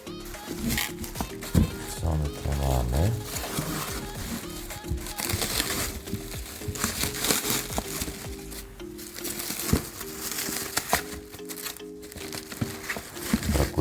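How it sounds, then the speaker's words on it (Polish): Paper and plastic foil crinkle and crush continuously up close while a parcel is unpacked, a dense rustling with scattered sharper crackles and a faint low hum underneath. "Papier folię na bok."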